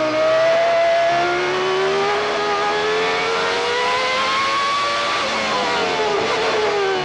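A 1992 Formula 1 car engine at the Spanish Grand Prix, held at low revs through a long right-hand corner, with a steady harmonic drone that rises and falls gently and stays loud and close without talk.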